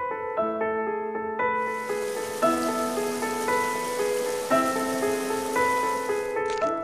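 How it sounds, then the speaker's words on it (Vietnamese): Cartoon rain hisses steadily under a gentle melodic music score, starting just after the music begins and fading out near the end, with no voices. "Sau một đêm mưa gió"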